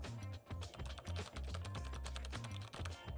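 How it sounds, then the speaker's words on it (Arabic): Rapid typing on a backlit mechanical gaming keyboard, loud and close, a dense run of clicky keystrokes with only brief pauses and no voices. "كيبورد بضوي صراحة، الصوت تاعه طرب، اسمع الصوت"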